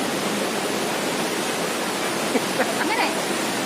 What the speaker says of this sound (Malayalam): സൂപ്പറായിട്ടുണ്ട് വെള്ളച്ചാട്ടം